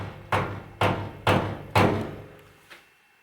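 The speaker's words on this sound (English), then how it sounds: "We go to the other side where I didn't apply it yet." Knuckles knocking on a bare van body panel with no sound deadening mat applied, five hollow, ringing knocks spaced about half a second apart, close and resonant, the last one softer.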